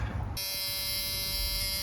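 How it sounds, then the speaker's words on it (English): The key-in-ignition warning buzzer of a 1986 Ford F350 starts abruptly and then holds a steady electronic drone inside the cab, with no talking over it. "We got key buzzer."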